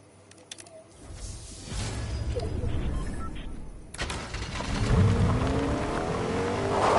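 A car engine revs and roars in the Fortnite video game, building to a loud sustained drone with tire noise, while faint keyboard or controller clicks sound early on.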